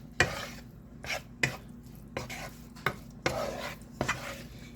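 Flour being stirred into a cooking mixture in a pan, a series of close, repeated scrapes and taps of a utensil against the pan at irregular intervals over a low background hum, no speech.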